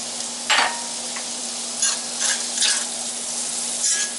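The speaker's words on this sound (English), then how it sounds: "Onions going in. Green peppers going in." Onions and green peppers sizzle and fry in a pan, a steady hiss with a few bursts of stirring and scraping, close and alone.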